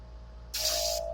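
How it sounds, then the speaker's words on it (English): An airbrush sprays paint stripper onto a model locomotive in one steady half-second burst of bright hiss that starts and stops abruptly over a low, constant compressor hum. "So I got an airbrush there."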